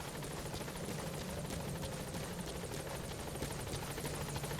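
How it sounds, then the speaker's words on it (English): A support helicopter hovers in Metal Gear Solid V: The Phantom Pain, its rotor making a steady, dense whir with a fast rhythmic chop throughout, fairly close. "Support helicopter has arrived."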